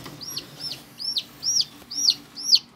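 Newly hatched chicks in an egg hatcher cheep in a rapid series of about six loud, close, high, down-slurred peeps with no talking.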